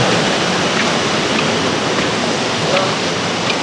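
Huay To waterfall in Thailand, a steady, loud rushing roar of falling water filling the whole clip without a break.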